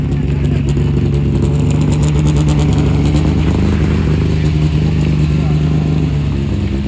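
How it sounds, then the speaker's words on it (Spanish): A 170 hp Citroën Saxo drift car revs hard on a racing circuit, a loud, close, sustained engine drone with a steady pitch and raspy exhaust crackle throughout. "Ahora va a salir el saxito de 170 caballos"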